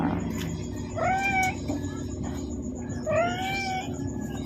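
A cat meows twice, two drawn-out close cries about two seconds apart, over a steady low background hum.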